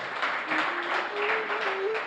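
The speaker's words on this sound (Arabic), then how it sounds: "تصفيق حار للكبير فاضل الغضبان." Audience at a poetry evening applauding for a poet, a dense, loud wash of clapping held steady over two seconds, with a voice running through it.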